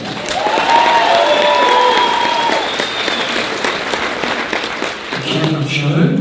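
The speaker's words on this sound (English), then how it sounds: "Big round of applause for Mirko." Concert crowd at a show in Colorado breaks into loud, sustained applause with cheers and whistles, holding strong throughout before a few instrument notes enter near the end.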